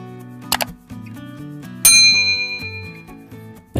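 A notification bell sound effect rings out with a bright metallic ding that decays slowly over a tonal musical bed, preceded by a short clicky burst.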